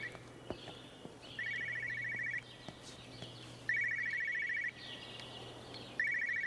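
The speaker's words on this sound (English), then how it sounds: "that ringing of the phone" A telephone rings inside the video game Everybody's Gone to the Rapture, three evenly spaced electronic bell bursts of about a second each, moderately distant over a low steady hum and faint ambient rustling.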